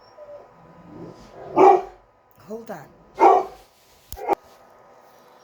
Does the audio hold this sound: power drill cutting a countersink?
no